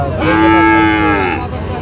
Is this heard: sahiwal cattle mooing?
yes